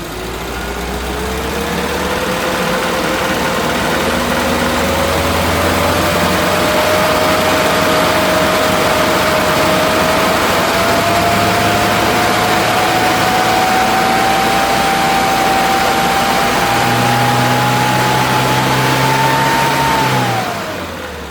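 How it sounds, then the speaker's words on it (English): Twin-carb Innocenti engine revving steadily up through its range for about twenty seconds, loud and near, with a rising whine that drops off sharply at the end. "I'll just bring it through the rev range and we can see what the feeling is like."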